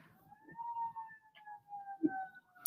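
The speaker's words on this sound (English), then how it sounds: "I'm sorry if you're hearing sirens. It's just that that truck going by." A faint wailing siren from a passing truck drifts past at a distance, its pitch slowly sliding, with a few soft thumps and clicks nearby.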